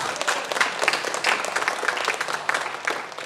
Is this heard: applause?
yes